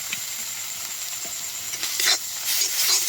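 Spice masala sizzles steadily in a pan for a silver carp kalia curry, with a constant bright hiss and a few scraping stirs that grow louder toward the end; no one speaks.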